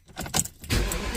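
An Audi S8 starts up after an ABS fault repair, heard from close inside the car. A brief rattle and starter whir are followed by the engine catching with a loud, full roar that settles into a steady run.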